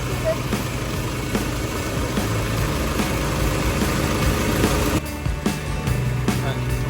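A vehicle engine idles with a steady low rumble throughout, loud and close, with people talking over it.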